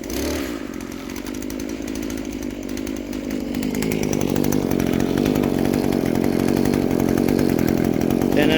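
An Echo SRM2100 string trimmer's small two-stroke engine runs close by with a buzzing drone that rises in pitch and loudness partway through, then holds steady.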